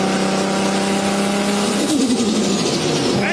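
A Nissan Skyline R34 engine holds a loud, close, steady high-rev drone, then the pitch wavers and drops off as the revs fall.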